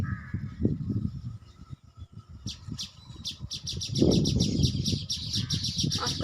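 House sparrows chirping around their nests, rapid bursts of repeated chirps growing busier toward the end, fairly close, over low rumbling background noise with no talking.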